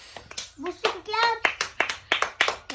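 Children clapping their hands in a quick, irregular series of sharp claps during a playground game, with kids' voices chanting and calling over and between the claps.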